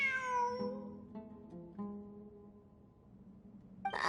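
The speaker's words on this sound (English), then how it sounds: "It really is a cat." A cat gives one drawn-out meow that falls in pitch, trailing into softer, fainter tonal mews, heard alone and fairly quiet.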